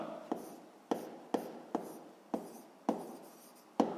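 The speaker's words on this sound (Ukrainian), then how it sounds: "Записуємо тоді масштаб." Pen writing on paper in a sixth-grade maths lesson, heard as a series of short scratchy strokes at an uneven rhythm, close and fairly quiet, with no talking.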